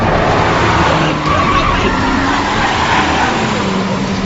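A jeep tears away fast with loud, continuous tire skidding and engine roar, a dense close-up screech lasting throughout with no pause.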